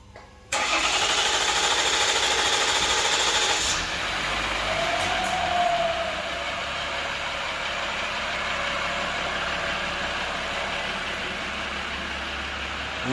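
A Jeep Grand Cherokee WK2 diesel engine cranks and fires on a test run, a sharp start followed by a loud, rough rev that settles into a steady idle rumble nearby.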